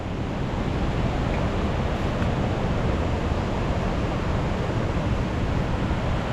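Steady broadband rush of the Prekchu River flowing beneath a bridge on the Goecha La trek, a constant close water roar with no pauses and no voices.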